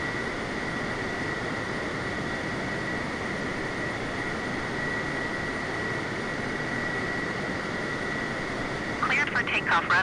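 A Boeing 747 sits on the runway with its jet engines roaring, a loud steady broadband rumble and a sustained whine, with a brief burst of other noise near the end.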